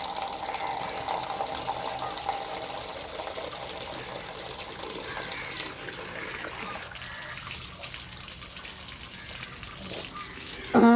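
Cold water pours steadily during a dog's bath, a continuous close gushing splash that eases slightly partway through, with a short sharp sound at the very end.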